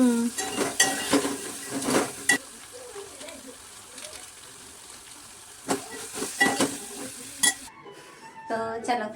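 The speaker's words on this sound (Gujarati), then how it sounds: "તો વઘાર તો કરી નાખ્યો, હવે આમાં નાખી દઈએ આપણે મેગી" Maggi noodles go into a pan after tempering, with sharp clanks of a utensil against the pan and a light sizzle in bursts. A voice is faintly heard in places.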